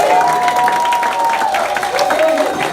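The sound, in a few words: audience applause and cheering for Joe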